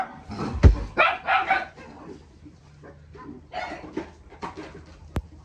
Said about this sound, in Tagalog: Tapang ng mga aso natin.